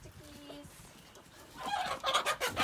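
Chickens being moved by hand into a crate for relocation to a new coop, with soft clucks early on and a louder burst of agitated clucking and squawking near the end, mixed with rustling.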